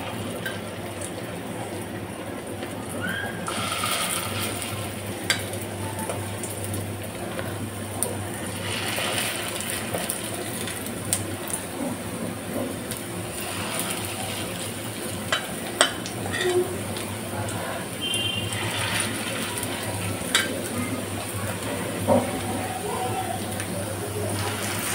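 Small bitter gourd leaf fritters frying in hot oil, a steady low sizzle running throughout with occasional faint clinks and stirring, under a speaking voice.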